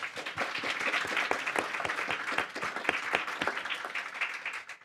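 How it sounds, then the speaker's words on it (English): Conference audience applause, a lively crowd clapping with distinct sharp claps audible within the mass, steady for several seconds and tapering slightly at the end, with no voices over it. "If you can give them another hand of applause."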